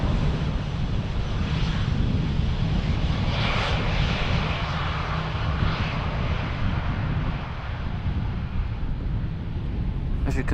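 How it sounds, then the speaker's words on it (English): A plane on approach to land on runway 18R at Amsterdam Schiphol Airport gives a steady, fairly distant jet engine roar that swells and fades slightly over constant wind rumble. "for the planes that are landing in front"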